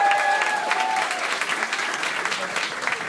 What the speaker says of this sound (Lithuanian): Pasitikite plojimais.